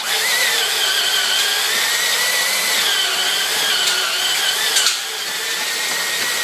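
A power drill whines loudly and steadily as it bores through aluminum without cutting fluid, then eases off briefly near the end.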